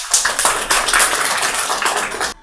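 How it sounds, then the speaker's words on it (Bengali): Classroom of students clapping for a classmate, a dense burst of many hands applauding nearby that fills the moment with no talk, then stops abruptly. "সবাই একটা হাততালি দিই"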